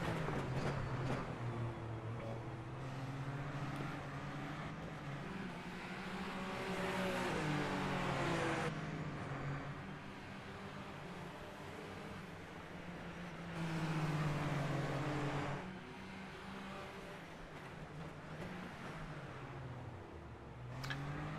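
Super Formula Lights open-wheel race cars in iRacing circle Laguna Seca, engines whining and rising and falling through gears and corners over a long stretch, fairly quiet, with no talk.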